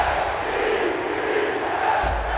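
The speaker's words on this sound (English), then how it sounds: "And the home crowd applauding. They're happy with what they've seen." A home crowd at a Jaguars vs Jets Thursday night NFL football game cheers and applauds in a dense, loud, steady roar of noise from a large stadium.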